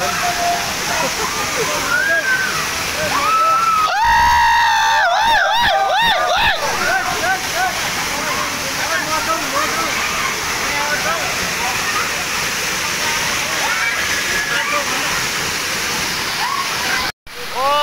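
The Jhor waterfall roars as a loud, constant rush of falling water, with splashing nearby where people bathe and voices breaking through the torrent.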